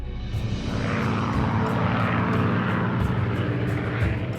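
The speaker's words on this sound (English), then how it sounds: "They heard the noise" About a hundred airplanes flying low overhead produce a dense, steady roar of propeller engines that fills the whole stretch without a break.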